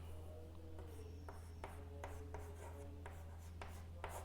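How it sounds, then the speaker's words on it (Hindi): Chalk or a marker taps and scrapes across a board as sums are written out in a maths class, a run of short strokes over a constant low electrical hum, with no talk over it. "पहली संख्या लेनी है प्रथम प्लस अंतिम, इधर लिख देता हूं देखो"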